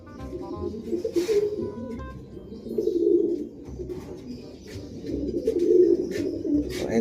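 Pigeons cooing in a loft, soft repeated low coos rising and falling in close bursts, with occasional faint chirps and small background noises; no talk.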